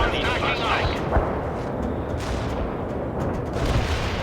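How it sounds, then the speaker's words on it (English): Light artillery barrage in the real-time strategy game World in Conflict: dense, continuous rumbling blasts and gunfire rolling under battlefield noise, with a louder impact near the start and radio-style voices talking over it. "Light artillery barrage. Fire at forward."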